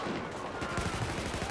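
Rapid gunfire from the video game Battlefield 4, a short dense burst of repeated shots filling the moment with no talk over it.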